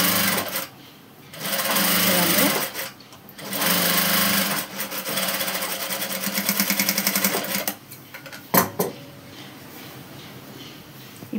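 A sewing machine stitching a long frock hums in close, loud bursts, starting and stopping several times with short pauses, followed by a few handling clicks and knocks.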